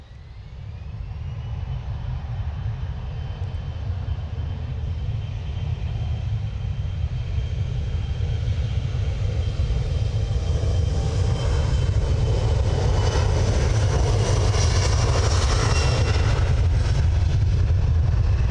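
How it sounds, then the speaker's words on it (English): KLM jet airliner departing from runway 23 left at Manchester Airport, bound for Amsterdam: engine roar builds steadily from a low rumble to a loud, sustained broadband thrust with rising hiss, heard alone. "we have the gorgeous KLM just lining up on 23 left"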